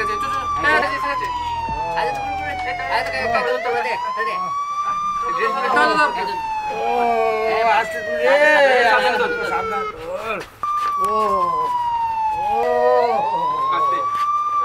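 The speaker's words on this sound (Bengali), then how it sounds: "অ্যাম্বুলেন্স এসে গেছে, চল হ্যাঁ এসে গেছে।" An ambulance siren wails loudly and steadily, its rising and falling tone sweeping throughout, while people talk urgently nearby over the top of it.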